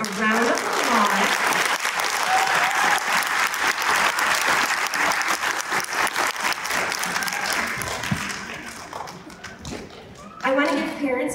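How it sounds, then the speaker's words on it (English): Applause for award winners at a kindergarten-to-third-grade school assembly, a loud steady round of clapping that fades near the end and briefly swells again, with voices mixed in. "Let's give all of our winners a round of applause."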